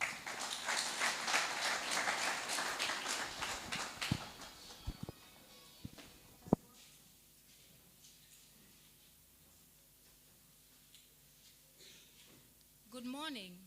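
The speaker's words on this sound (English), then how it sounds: "a round of applause for She Gashau" An audience at a summit event applauds a speaker, a loud burst of dense clapping that fades out after about four seconds into scattered claps and then footsteps and a faint room murmur.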